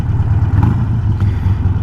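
A motorcycle running with a Fuelpak FP3 tune and its factory exhaust, giving a steady, close, low idle rumble that holds even throughout with no talk.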